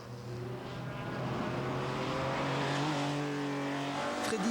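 Porsche 911 rally car driven by Freddy Loix at the 1998 Rallye de la Famenne, its engine note climbing steadily through the revs, loud and close, with a sustained droning tone and no voices.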